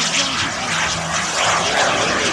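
Radio-controlled model jet aircraft making a medium-speed pass, its engine a loud, steady whooshing roar that swells slightly as it goes by, close and without talk.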